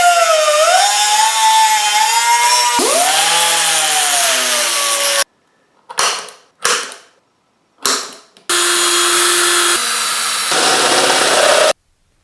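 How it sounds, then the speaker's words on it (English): A zip wheel cuts steel for a GM engine wiring harness part, a loud whining grind rising and falling in pitch, then a few short bursts and another long cut. "I will just take a zip wheel and cut this off"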